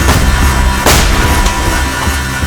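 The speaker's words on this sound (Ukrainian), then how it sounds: "Постріл!" A single sharp gunshot cracks out about a second in, standing out against a dense, noisy background rumble.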